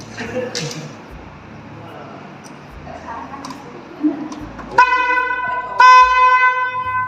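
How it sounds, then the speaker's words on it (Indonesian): Two loud, close honks from the horn of a student-built mechatronics car, mounted in the steering wheel centre, sound in quick succession, the second cutting in over the first, after quiet rustling and handling noise. "Jadi klaksonnya itu di tengah-tengah ini seperti mobil biasa"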